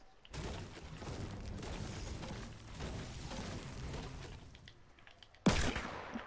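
Rapid bursts of gunfire from a PS4 video game rattle steadily at moderate loudness, followed by a sharp, louder blast near the end, with no talk over it.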